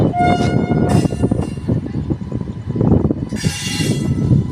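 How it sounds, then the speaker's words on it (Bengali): A lone locomotive running without carriages rumbles past nearby with a steady, loud roar, and its horn sounds in short blasts, all in the open air with no voices. "এই যে একটা ট্রেন যাচ্ছে, ওখানে ইঞ্জিন, মানে খালি ইঞ্জিন যাচ্ছে"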